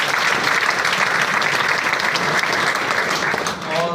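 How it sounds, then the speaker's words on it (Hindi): Steady, loud audience applause fills a speech hall at a business leadership event, an even wash of clapping that holds throughout and fades only slightly near the end. "तालियां मेरे अपलाइन के लिए।"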